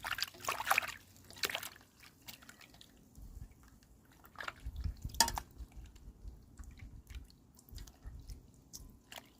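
Water trickles and drips while blanched mushrooms are rinsed, a quiet, irregular patter of small splashes and wet squishes close by, with no talking.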